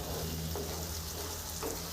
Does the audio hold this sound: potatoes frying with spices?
yes